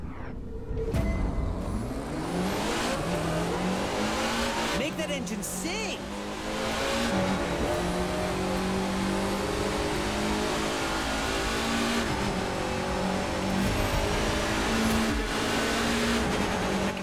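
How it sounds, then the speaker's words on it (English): Car engine revving in The Crew 2 racing game, a loud sustained engine roar rising and falling in pitch across gear changes, with a voice talking over it. "Engine sing!"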